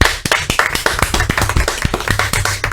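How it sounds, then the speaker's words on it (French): Applause from a small group in a radio studio for the presenter, a brief burst of uneven, fairly loud hand claps, close and without talk. "on peut l'applaudir"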